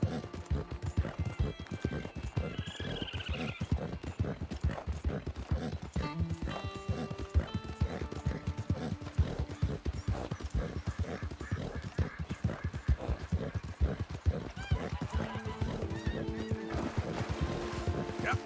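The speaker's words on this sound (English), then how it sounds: "that's a horse" Horse hooves clip-clop in a steady, continuous rhythm throughout, with neighing and whinnying mixed in, from the Red Dead Redemption 2 video game, set against a busy layer of game music and effects.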